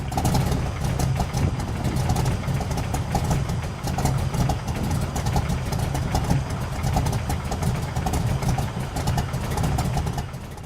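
A Shelby Cobra V8 idles while warming up, a continuous loud, uneven lopey rumble close by with rhythmic pulsing and no talk.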